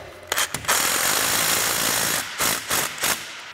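Ratcheting and tool clatter while a bolt is tightened during installation of TowTector towing mud flaps, a loud dense metallic whirr with short bursts and gaps near the end, close by with no talk.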